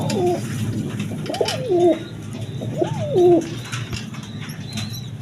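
Pigeons kept in pairs with eggs and chicks at a pigeon farm, cooing three times in slow rolling calls, close and clear over a low murmur of background noise.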